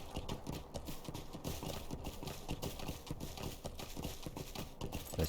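Horse hooves clip-clop in a rapid, steady galloping rhythm in a video game, continuous and close, with a low engine-like hum beneath and no talking.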